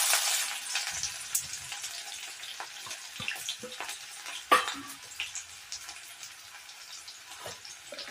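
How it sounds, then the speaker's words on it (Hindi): Onions dropped into a hot pan for a jackfruit curry fry with a soft, even crackling hiss, broken by a few sharper clicks and scrapes of stirring, close by with no talk. "तो ये हम इसमें प्याज डालेंगे"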